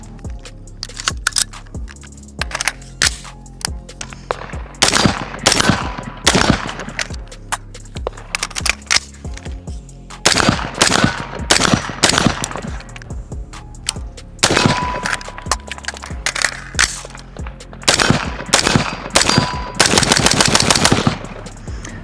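Dissipator-style AR-15 rifle fire rings out loud and close in rapid strings of sharp cracks, separated by short pauses, with no talking over the shots.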